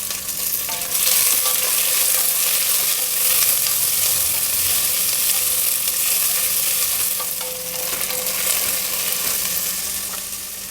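Mustard seeds, curry leaves and two medium sliced onions fry in a little oil for Karnataka avarekalu kichdi, giving a loud, steady, close sizzle with occasional stirring scrapes, no talking.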